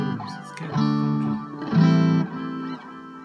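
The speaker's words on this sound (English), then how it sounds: "It sounds like an old modem. That crazy sound from old modems." A TC Electronic Alter Ego guitar effect pedal produces warbling, distorted digital tones resembling an old dial-up modem, swelling in several loud sustained bursts.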